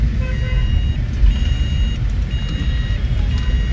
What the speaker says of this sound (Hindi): हर संडे को जब भी बाहर निकलो और ट्रैफिक ऐसा पाओ।